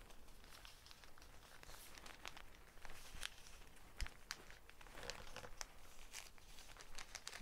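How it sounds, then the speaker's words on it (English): Sheets of paper folded in half and creased to form a temporary scabbard, giving soft, close crinkling and crumpling rustles with a few sharper crackles throughout, no voices. "And then fold it in half again."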